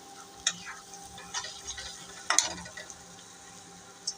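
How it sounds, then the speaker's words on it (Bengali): Chepa shutki paste sizzles quietly in a pan after a splash of water, with a spoon scraping and clinking against the pan in a few sharp, scattered strokes over a soft, low frying hiss. "এখন একটু পানি দিয়ে দিব।"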